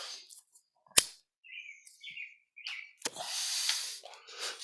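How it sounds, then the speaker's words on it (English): Robins singing outdoors at about 4:30 in the early spring morning, a scatter of short chirps and warbling phrases at moderate distance, broken by a sharp click and a stretch of broadband rustle. "4:30 in the fucking morning and robins are singing."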